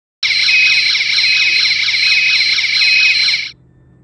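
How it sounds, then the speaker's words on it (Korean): Warning beacon siren on a FIX800 installed multi-gas detector: a loud, close, continuous high-pitched electronic wail with a fast warbling pulse, running for about three seconds before cutting off. "이번 영상에서는 경광등 테스트로 다소 시끄러울 수 있는 점 미리 안내드립니다."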